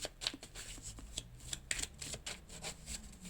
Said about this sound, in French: j'ai une carte qui se retourne